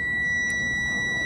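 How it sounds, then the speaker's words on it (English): Electronic tester used on car injectors of a misfiring Nissan 300ZX emits a continuous high-pitched beep tone throughout, loud and steady, over faint background hiss with no voices. "makes a beep"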